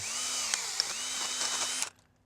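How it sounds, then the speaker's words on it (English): A power drill fitted with a 3/4 inch wood bit bores out the center of a rain barrel cap, a steady close whine with its pitch dipping twice under load before it stops abruptly near the end. "The only thing you have to do is drill out the center without damaging any of the threads"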